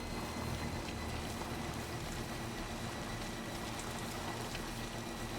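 Steady, dense rainfall in the video game Death Stranding 2, a constant even patter of drops on surfaces that holds at a moderate level throughout, with no talking.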